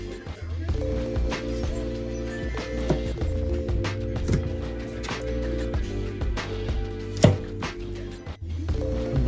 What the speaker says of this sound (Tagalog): Ito na, gagayatin na natin ng tenga ng baboy.